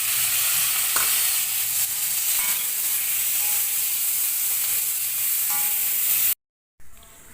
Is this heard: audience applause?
no